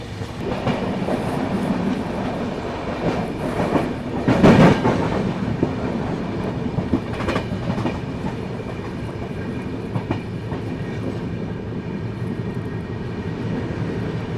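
The Sachkhand Express rolls through Jalandhar Cantt station without stopping, a steady, loud rumble of wheels and carriages with faint clickety-clack and a brief louder surge partway through, no voices.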